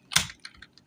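A brief burst of typing on a computer keyboard: one sharp, close keystroke followed by a few softer clicks within a second, no voices.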